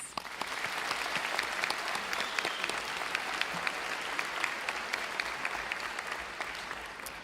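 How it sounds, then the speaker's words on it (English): Sustained applause from a seated graduation-ceremony audience at a school, a steady wash of many hands clapping at moderate distance, with faint voices mixed in. "Please give them a round of applause"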